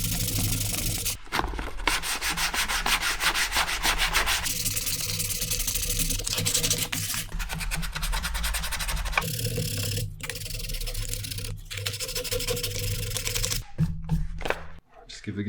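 A DIY acoustic guitar kit being sanded with fine-grade sandpaper, a steady close rasping rub running almost continuously in long strokes, broken by a few short pauses near the end.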